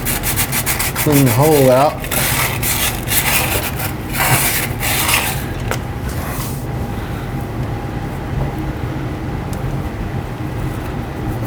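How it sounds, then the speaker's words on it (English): Sandpaper roughly scuffing the freeze plug hole in the engine block of a 1976 Cadillac Fleetwood, a steady close rubbing that runs on with some louder passes early and a brief spoken remark. "we'll just give this a rough little bit of sandpaper here."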